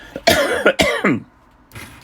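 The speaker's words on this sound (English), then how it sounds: "Excuse the cough." A few sharp coughs close by, clustered in quick succession, followed by a brief fainter sound after a short pause.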